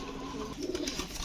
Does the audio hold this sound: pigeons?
yes